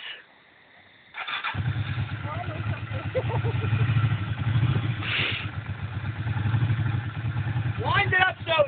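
A motorcycle engine starts up and runs close by, rumbling with uneven rises as the throttle is worked and the clutch is held, with people talking over it.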